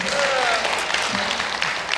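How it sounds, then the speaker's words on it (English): An audience applauds Lee Summers, a faculty member and production director at a behind-the-scenes event for the musical Hair, with brief, full clapping heard close and loud while a voice continues over it. "I'll give Lee a round of applause."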